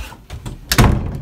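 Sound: door closing

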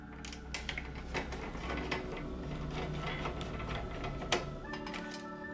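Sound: screwdriver undoing Phillips screws on PS4 Slim

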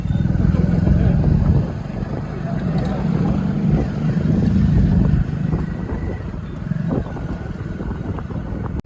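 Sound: motorcycle passing

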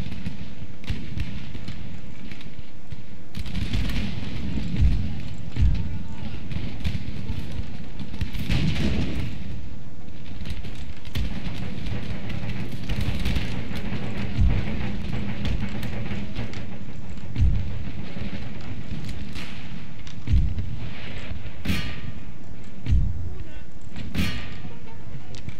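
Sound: artillery and musket firing in video game Empire Total War

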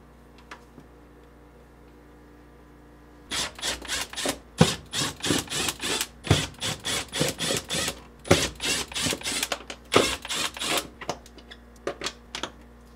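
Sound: removing screws with a quarter-inch nut driver

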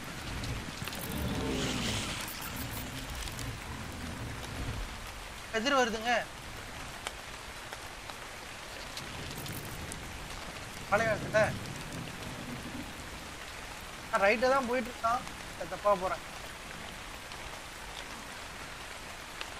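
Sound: heavy rain in the desert in ARK: Scorched Earth (video game)

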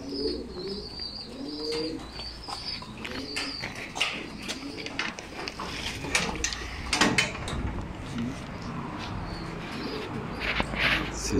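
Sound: young pigeons cooing and moving in a loft

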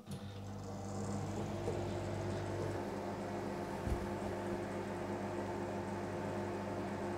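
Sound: microwave oven running at 800 watts heating water

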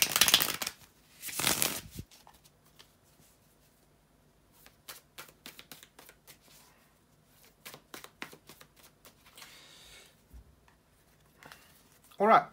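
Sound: shuffling tarot cards

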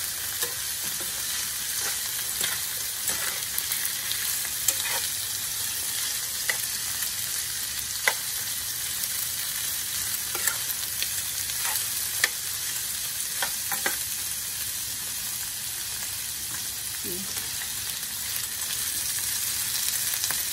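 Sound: stirring shrimp and string beans frying in a pan

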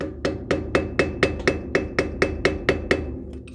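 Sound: hammering screwdriver to pop trailer hub cap

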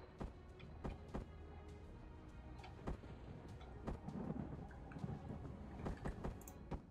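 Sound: thunderstorm outside in the video game Empyrion

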